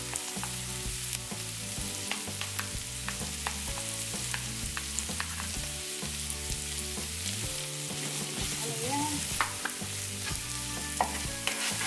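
Bitter gourd sizzles and crackles steadily in hot oil in a frying pan while being stirred, with scraping utensil knocks and clinks scattered throughout the close, continuous frying.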